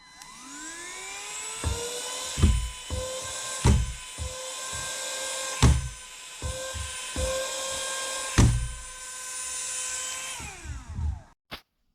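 A cordless vacuum cleaner, likely a Suitu ST-6645 Pro or MIUI XT01B, runs steadily at first speed with a whining tonal drone during a suction test lifting added weight. Repeated knocks and thumps break in throughout before the motor winds down and stops.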